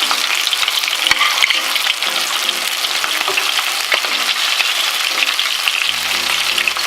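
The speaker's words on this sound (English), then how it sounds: "We don't want a very violent fry because that's just going to add a lot of splashing and" Frog legs fry in a pan of oil at moderate heat, a loud, steady crackling sizzle running throughout with a few soft clicks of utensils and no talking.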